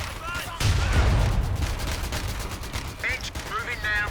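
Gunfire in a Company of Heroes 2 World War II battle, rattling bursts and scattered shots with booming impacts, loud and sustained, mixed with clipped radio-style unit voices.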